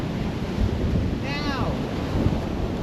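Ocean waves wash onto a cold, windy beach, a continuous loud roar of surf mixed with heavy wind buffeting the microphone and a brief faint high call in the middle.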